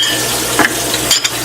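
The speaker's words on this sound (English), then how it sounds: "And my oil is heating up" Hot oil in a pan, heated for frying onions, sizzles and crackles steadily and loudly close by, with a couple of brief stirring scrapes and no voices.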